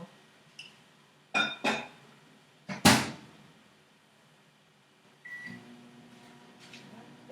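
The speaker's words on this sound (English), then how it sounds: "Now I'm going to do mine in the microwave" A few sharp clunks and a clack, like a door shutting, then a microwave oven starts up with a steady low hum and faint whine.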